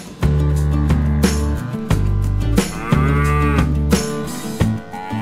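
A domestic cow moos loudly several times in succession, long deep bellowing calls separated by brief pauses.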